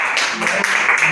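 Classroom audience of schoolchildren clapping together in a short, steady burst of applause that fills the room, with a faint voice underneath.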